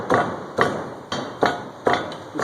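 Foundry sand is rammed around the perimeter of a mold flask, five sharp, evenly spaced thumps roughly half a second apart, close and clear with no talking.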